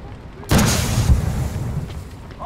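A grenade detonates in Call to Arms – Gates of Hell: Ostfront during a US campaign hedgerow battle: one sudden, loud blast with a sharp onset, then a long rumbling tail that fades slowly.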